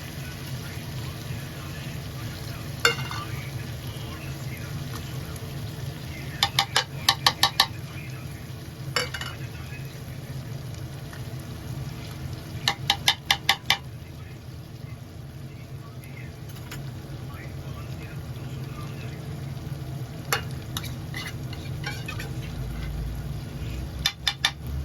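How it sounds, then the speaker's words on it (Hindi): Tuna and boiled potatoes fry with masala in a pan for a few minutes, with a steady low sizzle throughout and occasional clusters of sharp metallic clinks from stirring against the pan. "अभी इसको फ्राई करेंगे 2 से 3 मिनट के लिए ताकि इसमें मसाला अच्छी तरह से जज्ब हो जाए"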